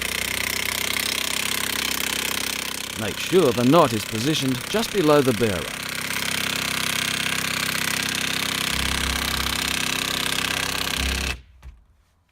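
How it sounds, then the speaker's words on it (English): A loud, steady mechanical roar of an impact drill driving a footing into the ground runs throughout, with a person speaking briefly over it before the noise cuts off near the end. "use the impact drill to drive it into the ground"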